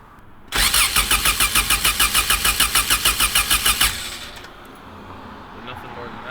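A Honda VTEC car engine that died at a stop cranks on the starter, a loud, rapid chugging of even pulses for about three seconds that never catches, then cuts off into a quiet background.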